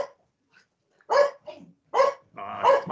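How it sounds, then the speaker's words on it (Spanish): Dogs barking at someone at the door, several sharp close barks in short bursts separated by brief pauses, loud and clear with no talk. "estoy lleno de perros acá"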